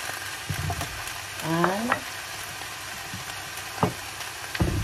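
Chicken pieces for adobo frying in hot oil, with a steady sizzle, a few stirring scrapes and clacks, and brief cooking noises over the hiss.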